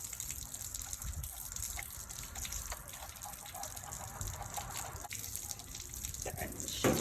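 Water gushing out of a water heater tank during anode rod replacement, a continuous splashing rush with dripping and trickling, growing louder at the very end.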